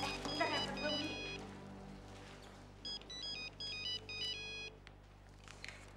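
Mobile phone ringtone going off indoors: a melodic electronic tune plays close by, with soft background noise and a voice briefly underneath.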